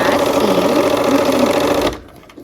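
Stitching the final seam of a Christmas quilt block, a sewing machine hums close and loud at a steady fast pace for about two seconds. The motor pitch wavers slightly before it stops sharply.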